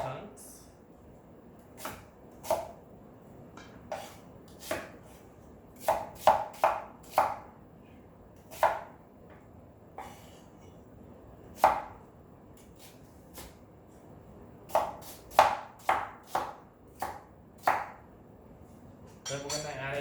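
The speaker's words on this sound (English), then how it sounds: "Then I'm going to cut these onions into small chunks." Onions being cut into small chunks with a knife, close sharp chops on a board arriving in irregular bursts and singles with quiet gaps between them.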